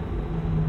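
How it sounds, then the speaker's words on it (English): Low, steady engine rumble of a car in Cyberpunk 2077, distant and gradually growing, with no voices over it. "Car. At this hour, in this place?"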